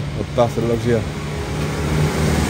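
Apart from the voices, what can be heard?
car reversing past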